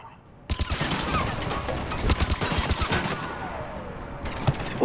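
Rapid gunfire from the video game Mass Effect 3, in a Grissom Academy mission: dense bursts of shots in quick succession, loud and sustained over rumbling game effects, with a brief pause before a final volley.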